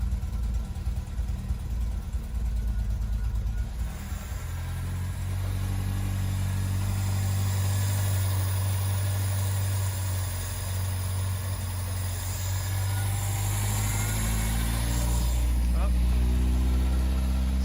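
An MGB engine idles too high, a steady low continuous rumble close by, its pitch rising slightly toward the end.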